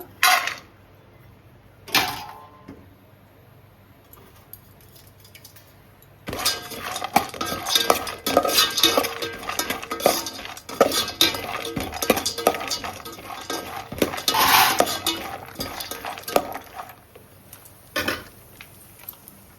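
Cashews frying in hot ghee in a pan, a metal spoon scraping and clinking against the pan in a busy, irregular stirring rhythm, close and moderately loud, with a few separate knocks at the start.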